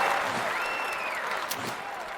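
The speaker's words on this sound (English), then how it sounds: "Cleared that one and earns a round of applause." Spectators at a London 2012 Olympic shooting event applaud after a clay target is cleared at a station. The clapping is moderate and spread out, with a commentator's voice and a musical tone running over it.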